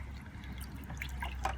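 Water trickles and drips faintly from the drain filter of a Haier washing machine, a soft, irregular dribble over a low hum.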